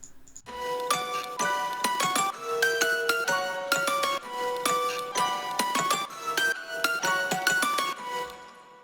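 Piano notes strike in step with crisp snare hits in an electronic track, forming a steady, repeating rhythmic pattern of bright tonal stabs layered over sharp percussive cracks.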